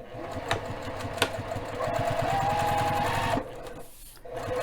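A sewing machine stitches at a 2.5 stitch length, using white thread on black fabric. Two short bursts are followed by a sustained run of rapid needle clatter, which stops near the end.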